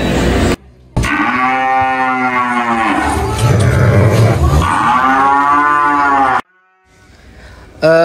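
Belgian Blue cattle on an Indonesian farm give long, loud, deep moos close by, one drawn-out call followed by another after a brief gap.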